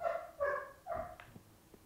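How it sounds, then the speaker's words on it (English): A pet dog barks in a few quick yips and barks, faint and somewhat distant, as if from another room, with a short trailing whimper. "I think that's my dog."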